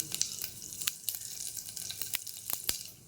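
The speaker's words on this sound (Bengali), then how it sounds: "কুকারে তেল দিয়েছি সামান্য, একটু 5 ফোড়ন আর শুকনো লঙ্কা ফোড়ন দেবো" Panch phoron and slit dried red chilies temper in a little oil inside a pressure cooker, producing sharp, irregular crackles and pops over a faint hiss, quiet and without speech.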